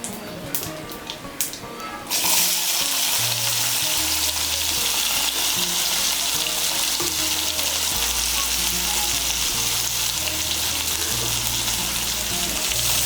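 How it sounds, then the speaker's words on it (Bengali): Chopped onion hits hot oil and sizzles loudly for a potato and paneer curry, after a few light taps at the start; the steady frying hiss continues under intermittent low scraping and stirring. "পেঁয়াজ কুচিটাকে তেলের সঙ্গে মিশিয়ে নেব। মিশিয়ে নিয়ে লাল করে ভেজে নেব।"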